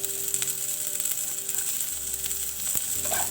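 Potato and cauliflower pieces roasting in a pan for a paneer aloo gobi roast, giving a steady close sizzle with a few stirring clicks and scrapes, no voices.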